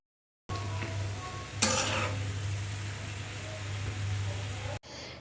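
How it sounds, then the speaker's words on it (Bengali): Duck skin and potatoes fry in a pan, giving a steady close sizzle with scraping stir noises and a brief louder burst of crackle partway through. No one speaks. "আর তার সাথে এই তো আলু ভাজা করে নিতেছে"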